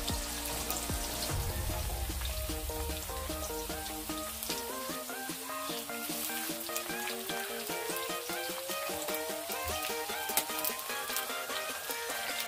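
Vegetables for Bengali-style vegetable fried rice fry in hot oil with whole garam masala, giving a steady close sizzle and hiss throughout, while a rising tonal sweep plays over it.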